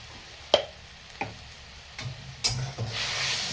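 Mustard and poppy seed paste frying in oil for a hilsa dish crackles and sizzles close by, with a few sharp spoon taps and scrapes and a brighter hiss swelling toward the end.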